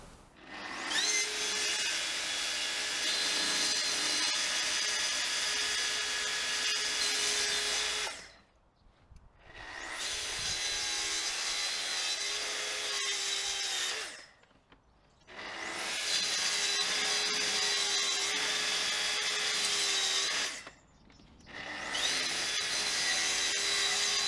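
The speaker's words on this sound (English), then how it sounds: "we'll go outside and cut up some timber for the board" Timber for a model railway baseboard is cut in four long, loud bursts of a buzzing power saw, each separated by a short quiet gap, with no voices.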